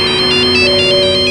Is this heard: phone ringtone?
yes